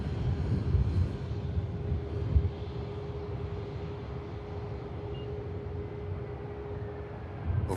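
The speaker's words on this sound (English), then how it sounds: "Lovely touchdown from the EasyJets." EasyJet airliner landing at Manchester Airport, a steady distant jet roar with broad rumble that holds throughout, slight swells near the start and end, no voices.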